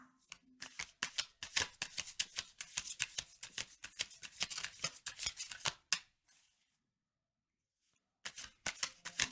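A tarot deck is shuffled by hand close up, with rapid rustling riffles and card slaps for about six seconds. A brief quiet gap follows before another short burst of shuffling.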